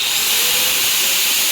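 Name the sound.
bench grinder starting up, powered by car battery inverter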